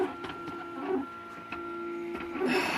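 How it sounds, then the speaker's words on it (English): A home-built 3D printer from 2012 runs nearby, its stepper motors whining in sustained tones that shift pitch between moves, with short mechanical clicks and a rising whir near the end. "I built this 3D printer in 2012"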